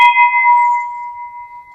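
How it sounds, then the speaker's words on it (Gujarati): A brass temple bell gives one clear, loud metallic strike, then a bright ringing tone that slowly decays over under two seconds, with nothing else heard. "ઘંટ જે મંદિરમાં લગાડી,"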